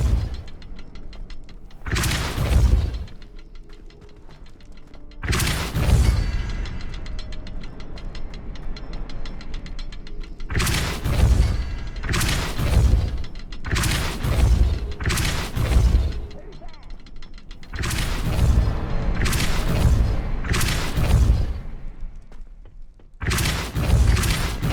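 Depulso spell casts in Hogwarts Legacy ring out as a series of loud, sharp blasts, roughly eight in all, spaced irregularly over a steady low background.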